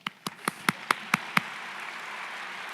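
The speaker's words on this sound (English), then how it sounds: "That deserves some applause." An audience at a university's State of the University address gives about seven sharp, evenly spaced claps that grow louder, then a thin, fading spread of scattered clapping and room noise.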